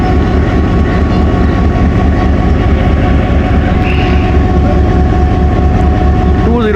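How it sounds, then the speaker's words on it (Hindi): Train 204 Down pulls out of Attock City Junction, a loud, near, unbroken low rumble with a droning mechanical whine that persists through the whole stretch. "204 डाउन 5 मिनट डिले के साथ जा रही है"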